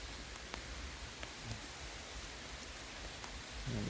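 Steady soft rain patters under trees in a forest clearing during winter bird-feeder setup, a continuous faint hiss with a few scattered louder drops and no voices.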